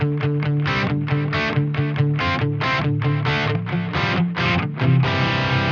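Heavily distorted electric guitar driven through an external Gehenna preamp routed via a Neural DSP Quad Cortex, playing tight, rhythmic chugging chords with fast choppy stops, loud and dense throughout with no talking.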